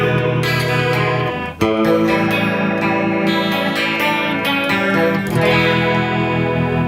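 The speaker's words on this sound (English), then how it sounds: "the faster you go, the more sort of chorusy it gets" An electric guitar plays sustained chords through the chorus effect of a Mooer Red Truck pedal, shimmering, loud and close, with a brief dip between strums.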